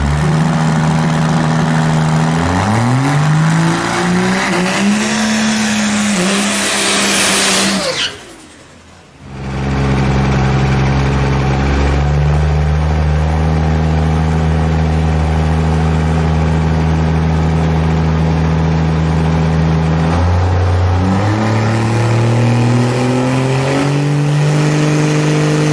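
A Pro Street race car engine at a drag race meet idles with a deep, steady rumble, then revs up sharply and drops off before settling into a loud, lumpy idle again, close and continuous with no talk.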